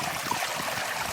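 Water trickles steadily over a built sandstone cascade spillway into a garden pond, a soft continuous splashing and babbling at moderate distance with no other sounds.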